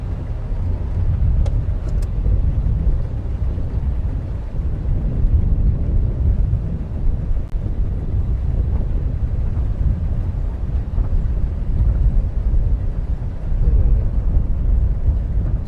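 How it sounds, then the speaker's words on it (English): Low, rumbling wind buffets the microphone on a South African safari throughout, a constant heavy roar with gusty swells and no voices. "windy weather like this is potentially"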